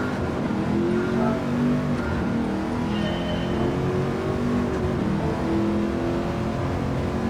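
A Camaro race car engine roars steadily in Gran Turismo 7 on a desert track, loud and close, holding a high revving drone with small shifts in pitch throughout.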